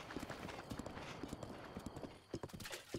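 Horse hooves clip-clop at a trot in Breath of the Wild, a quick, even, faint rhythm with soft in-game ambience beneath.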